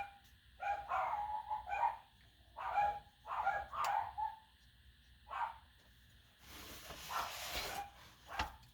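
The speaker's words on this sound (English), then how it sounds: "Oops, there's my dogs." Pet dogs bark in short bursts of several yips and barks, moderately distant and fairly faint, followed by a brief rustling noise, with no speech over them.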